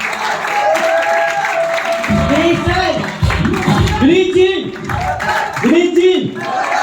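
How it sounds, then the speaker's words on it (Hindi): Audience clapping rises at a motivational seminar, dense and close, while a loud voice calls out over it in bursts. "भाई इनके लिए ताली बजवाओ।"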